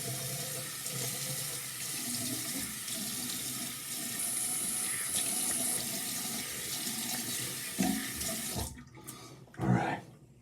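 Bathroom tap running steadily into a sink for rinsing after a straight razor shave, a continuous hiss and splash that cuts off near the end, followed by a few small knocks and splashes.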